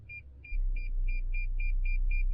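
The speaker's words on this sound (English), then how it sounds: "There's also sensors, because they'll probably beep here in a second." Parking sensors on a 2022 Toyota Tundra SR5 Premium beeping in a quick, evenly spaced series of clear high tones over a low engine hum, fairly close.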